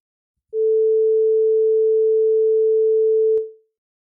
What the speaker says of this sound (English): Let's generate a quiet tone of one sound at 440 hertz.